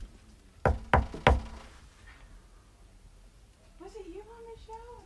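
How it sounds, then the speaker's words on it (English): Three sharp, close knocks in quick succession on a surface inside the Groundlings Theatre in Portsmouth, followed by quiet room tone and then a voice speaking softly. "Can I just knock in there just because I feel like I have to?"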